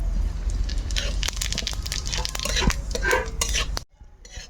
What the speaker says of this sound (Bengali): এখন ফোড়নে নিয়েছি বড় এলাচ, ছোটো এলাচ আর দারচিনি, একটু গোটা জিরে।